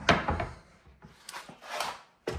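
A wooden drawer in a rental flat in central St Andrews is opened and closed, giving a close, dry wooden slide and knock, then softer rubbing and another sharp clack at the end.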